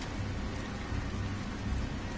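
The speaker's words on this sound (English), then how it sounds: "Oh, it is raining." Steady rain hisses in the Nioh video game, a dense, even wash with low rumbling underneath. It holds at moderate loudness and no one speaks.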